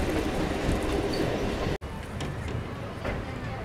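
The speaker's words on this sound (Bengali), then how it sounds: "এই আমাদের ট্রেন যাচ্ছে দেখো" A local train running from Dumdum to Majerhat rumbles steadily with broad, continuous rail noise, a brief cut midway, and faint talk beneath the clatter.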